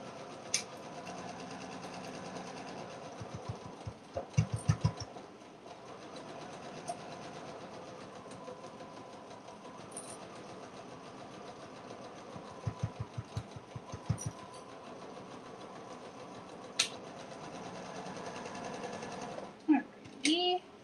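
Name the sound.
sewing machine stitching along top edge of canvas tote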